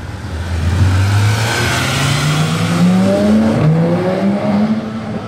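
A Porsche GT3 RS accelerates hard through Monaco streets, its engine pitch climbing steadily through a gear, then dropping on a shift and climbing again, loud and passing close.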